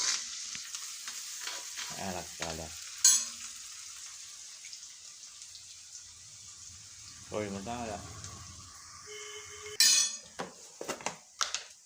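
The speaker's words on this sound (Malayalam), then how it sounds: "ഇനി ചക ചക വറക്കാം അങ്ങനെ അങ്ങനെ ഇളക്കാം ചകചക ചകചക" Onions with ginger and green chillies fry in a pan for rava-and-egg upma, a soft sizzle broken by clinks and scrapes of a spoon stirring, while a voice talks over it in bursts.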